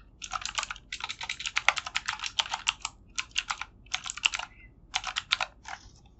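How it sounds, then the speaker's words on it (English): Rapid keystrokes on a computer keyboard come in several quick bursts with short pauses between them, close and clear with no talking, as an email address is entered during a GitHub sign-up. "in here we will type or we will be providing our email address"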